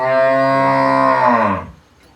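A buffalo on a farm in Kairon village near Patti, Punjab, lets out one long, loud, close moo that fades near the end, with no talk over it.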